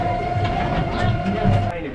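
The Blue Mountains scenic railway, a very steep incline train, rumbles along in a short, close burst of rolling and clattering, with faint voices mixed in.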